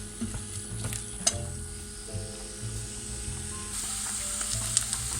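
Peas and carrots sautéing in a pan give a low, steady sizzle with light stirring scrapes and a couple of sharp clinks, quiet and close, over a faint constant hum.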